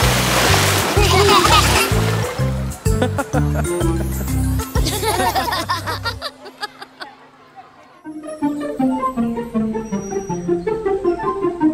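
Playful water splashes in a children's song about playing with water, bright and close, arriving over upbeat music with a singing voice before a brief quieter gap and more sloshing play.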